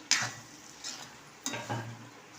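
Tondli and potato vegetable being stirred and sautéed in a pan, with two short bursts of scraping and soft sizzling separated by a brief pause, close and fairly quiet, no talking.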